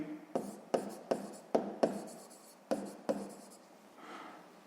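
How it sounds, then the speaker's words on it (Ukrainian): Pen writing by hand on paper while working a sixth-grade maths exercise: about eight crisp, close scratching strokes in a quick, uneven rhythm, then a soft fading rub, with no talking. "Далі пишемо оскільки."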